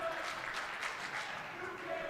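A crowd at a girls' high school basketball game cheers and claps in a sustained, dense roar, with a voice talking over it.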